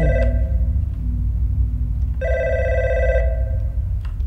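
A telephone ringing in the horror video game God's Basement, two electronic rings with a pause between them over a low droning ambience.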